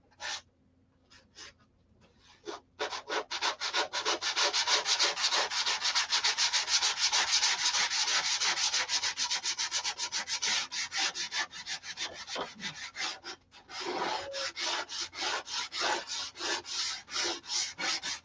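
Hand sanding with sandpaper, steady back-and-forth rubbing strokes in a fast rhythm, close and fairly loud, starting after a few scattered scrapes and pausing briefly midway before resuming.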